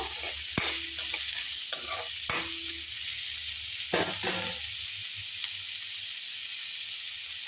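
Chilies fry in a pan with a steady, soft sizzling hiss, broken by a few clinks and scraping stirs of a utensil, close and moderately loud.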